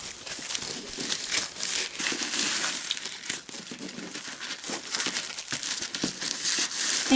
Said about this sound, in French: de replier et de faire un accordéon avec toutes les feuilles de papier de soie